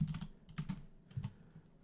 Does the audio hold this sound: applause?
no